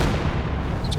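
In Company of Heroes 2, a Katyusha rocket artillery barrage roars as a loud, continuous, rumbling rush of fire filling the whole moment.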